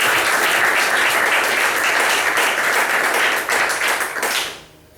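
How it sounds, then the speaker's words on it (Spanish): Church congregation applauding their Lord during a Spanish-language service, a dense, steady wash of many hands clapping close and loud that fades out near the end. "Denle un aplauso al Señor."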